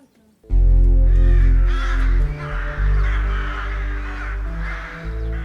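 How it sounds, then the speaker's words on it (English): Crows caw in a Romanian city, loud and close, with several harsh repeated calls in quick succession. "There are many birds such as crows, pigeons, sparrows and tits"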